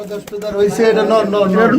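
Pigeon cooing close by, low and throaty, with a person talking over it.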